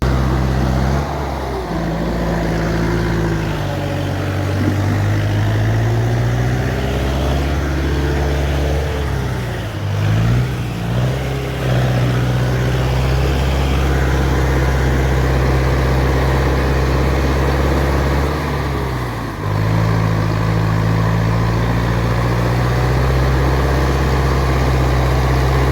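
A tractor engine strains to maneuver out of deep mud on a rain-soaked village dirt road, its loud low drone rising and falling steadily throughout with brief dips, no talk heard.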